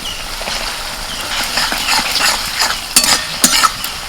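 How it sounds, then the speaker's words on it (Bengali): Fried quail eggs are stirred into a spice masala in a pan, giving a continuous sizzle with repeated scraping and a few louder clanks of the spoon. "এবার ভাজা ডিমগুলো দিয়ে দিচ্ছি"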